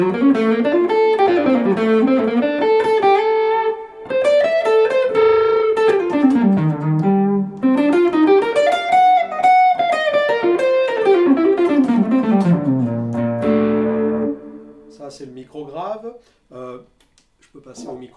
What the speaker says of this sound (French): Cette guitare fonctionne assez bien aussi avec des sons saturés ou distorsion.